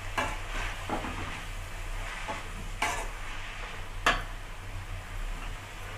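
Manathakkali greens are lightly sautéed in a pan over low heat, a soft steady sizzle with occasional spatula scrapes and a few sharp taps against the pan, beneath a constant low hum.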